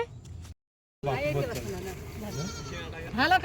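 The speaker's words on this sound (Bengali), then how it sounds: "কয়টা ছাগল আপনার?" Village goats bleat close by in a run of loud, wavering calls that follow a brief pause, with rural background sound underneath.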